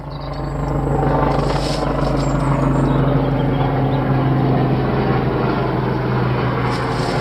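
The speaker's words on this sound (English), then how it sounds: "Lots of choppers flying about." Military helicopters fly overhead in the countryside, making a loud, steady, low rotor and engine drone that swells in and then holds for several seconds.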